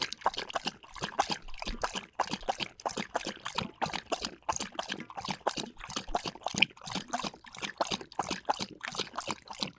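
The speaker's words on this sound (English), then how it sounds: "That's water, right?" Water trickles and patters steadily in quick, uneven splashes, close and fairly loud throughout, with no voices over it.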